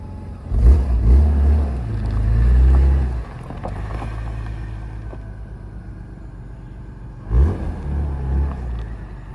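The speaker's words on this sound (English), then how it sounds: "Engine is quiet, exhaust is quiet." A neglected BMW E36 M3 runs with a quiet engine and exhaust, a low close rumble that swells briefly twice, blipping near the start and again toward the end, with a steadier, softer idle between.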